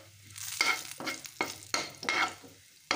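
Masala with coriander powder roasting in a pan, heard as about five quiet scraping stir strokes with a light sizzle between them.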